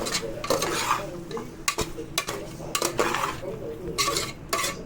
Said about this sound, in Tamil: வெங்காயம் தக்காளி சிக்கன் எல்லாம் நல்லா வதக்கி விட்டுருக்கோம்